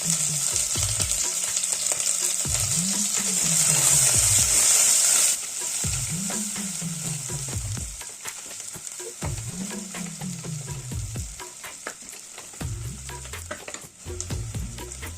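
Garlic, onion and green chilli sizzle in hot oil in a pan for coconut biryani, a steady close frying hiss broken by repeated rhythmic scrapes of a stirring spoon, with no voices.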